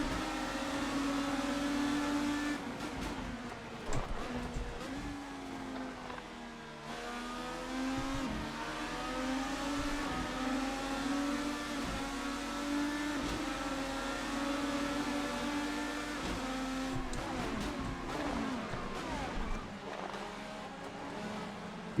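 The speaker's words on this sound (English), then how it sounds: "You can hear the tires chattering." An IndyCar in Assetto Corsa on the slippery, wavy pavement of Riverside, its engine droning steadily with shifting pitch and faint, continuous tire chatter beneath, close and loud throughout with no talk.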